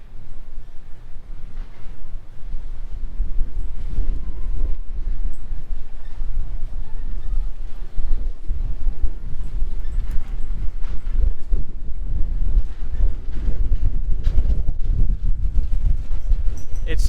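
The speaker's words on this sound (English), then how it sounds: "It's extremely windy in Marseille as well" Steady, heavy wind rumble buffeting close by in Marseille, a constant low roar with gusty surges throughout and no talking.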